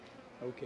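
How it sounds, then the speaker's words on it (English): Honey bees swarming around a camera at an opened hive: a close, steady insect buzz with rising surges, under a brief spoken word. "The bees just were attacking the heck out of my camera."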